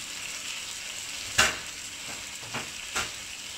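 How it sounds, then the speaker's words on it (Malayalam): Ingredients for Kerala fish pollichathu sauté in a pan with a steady, soft sizzle throughout, broken by a few sharp utensil scrapes and taps. "അതും നല്ലവണ്ണം പച്ചമണം മാറുന്നത് വരെ വഴറ്റി കൊടുക്കുക"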